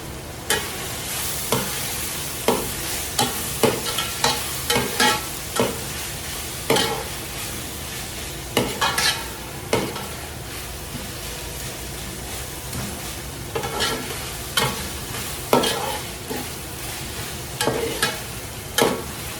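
Chicken biryani masala fries and is stirred in a pot, with a steady sizzle under repeated scraping spoon strokes at an irregular rhythm, close and fairly loud with no talking.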